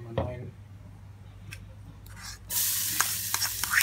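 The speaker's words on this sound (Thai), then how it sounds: "เจียวกระเทียมตัวครับ" Garlic hitting hot oil in a pan, after a few quiet clinks and a brief voice, bursts into a loud, close hissing sizzle that continues to the end.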